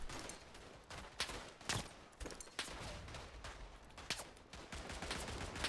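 Smith & Wesson Model 3 Russian single-action black powder revolver in .44 Russian, in the Tannenberg video game, fires sharp shots among faint, distant scattered battlefield gunfire, quiet overall with irregular spacing.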